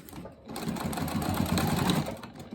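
Sewing machine running steadily as it stitches a seam along a scrappy fabric pouch panel, a continuous close mechanical whir lasting a couple of seconds, with no talking over it.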